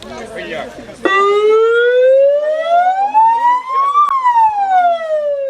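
Fire truck siren at a school civil-defence day, starting abruptly and sweeping steadily upward in a loud rising wail before dipping again, close and dominant over faint voices and crowd noise at the start.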